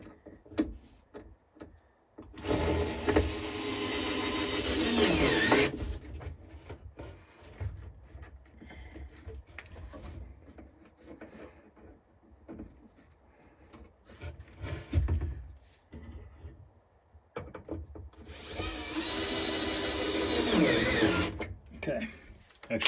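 Screws driven by a power drill into a wooden arcade cabinet, heard as two long whirring bursts with quieter handling noises and someone talking between them.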